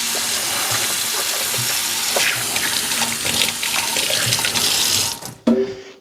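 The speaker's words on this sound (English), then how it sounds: "Let me rinse my hands." Tap water runs steadily into a kitchen sink as hands are rinsed after cracking raw eggs for a German chocolate pound cake, a loud continuous splashing that cuts off abruptly near the end.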